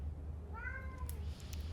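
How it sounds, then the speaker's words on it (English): A cat howls once in the background, a rising and falling meow of about half a second, moderately clear over a steady low indoor hum. "I don't know if you heard the cat in the background."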